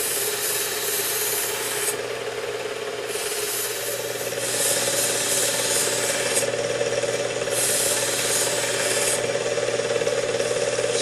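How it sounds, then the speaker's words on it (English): A knife edge is drawn along the medium grit belt of a Work Sharp 2000 sharpener, a steady motor whine with a rasping grind that rises and falls in repeated passes along the blade, close and loud, no talking. "I'm going to use the medium grit belt and draw a burr all the way down the cutting edge of the knife"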